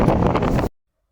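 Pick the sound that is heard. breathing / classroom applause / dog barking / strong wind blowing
strong wind blowing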